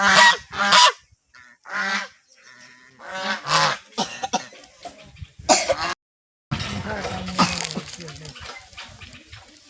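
Loud, harsh honking calls from ducks come in repeated bursts, close by, with a voice speaking in between.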